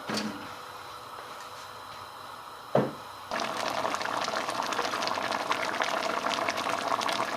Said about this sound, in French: On va mettre à bouillir.